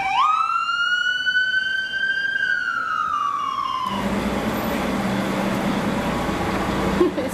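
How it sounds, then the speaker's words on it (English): Ambulance siren passing on a street in Pontypridd, a loud rising wail that sweeps past, then fades into traffic rumble as it moves away. "ambulance coming"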